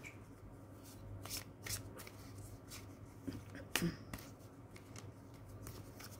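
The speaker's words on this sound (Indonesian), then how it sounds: "Kita ambil 2 kartu." The Wild Offering Oracle cards are shuffled and drawn by hand in a quiet room, giving soft, scattered riffling and sharp flicks with one crisp snap partway through, close but faint.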